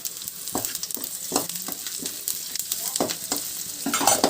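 Crushed garlic sizzles loudly in hot oil in a pan for egg biryani, broken up by repeated scraping strokes of a stirring spoon at an uneven rhythm, close up with no talk.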